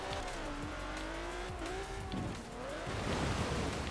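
A limousine driving through mud and jumping in Forza Horizon 4, engine droning and shifting pitch under tire squeal and splashing mud, steady and fairly close throughout.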